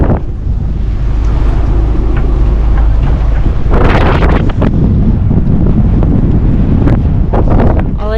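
Strong wind gusts roar across an anchored sailboat, a loud continuous rush with surging peaks and occasional rattles and knocks from the boat, steady throughout with no voices.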